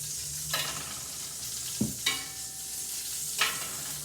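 Meatballs sizzle as they fry in a pot, a soft steady hiss with a few scattered clanks and scrapes of stirring, no speech.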